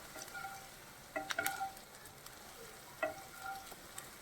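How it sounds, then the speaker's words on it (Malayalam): Ginger and garlic sauté in oil for Maggi noodles, a quiet, even sizzle with a few sharp utensil clinks and scrapes against the pan, heard alone. "വെളുത്തുള്ളി നന്നായിട്ട് വഴച്ച ഈ പച്ചമണം മാറണ വരെ വഴത്താം"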